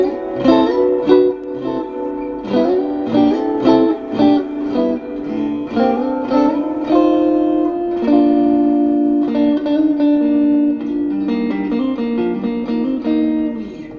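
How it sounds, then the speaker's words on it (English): A clean electric guitar rings through a Milkman One Watt Plus tube amp with tube-powered spring reverb, playing picked chords and single notes alone. The notes sustain smoothly, with a soft reverb tail. "So very nice clean tone out of this spring reverb."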